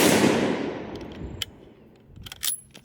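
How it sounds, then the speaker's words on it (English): A loud rifle shot from a Ruger M77 Mark II in .22-250 firing Hornady 50 grain VMAX ammunition booms up close, its blast decaying over a second, followed by faint clicks and small impacts. "This one's going to be their 50 grain VMAX, and we're going to be shooting for the bottom of the center diamond"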